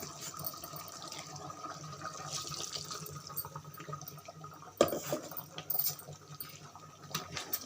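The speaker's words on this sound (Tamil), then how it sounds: "தேவையான அளவு தண்ணி ஊற்றி" Water is poured into a pot of simmering chicken curry, a soft steady trickle with faint splashing, quiet and close, with a brief clatter midway.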